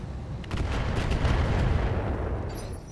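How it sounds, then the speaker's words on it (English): Rockets slam into a mech in modded BattleTech (RogueTech), a heavy rumbling barrage of overlapping booming impacts that swells, holds loud for about two seconds, then fades. "Alright, hit him with some rockets,"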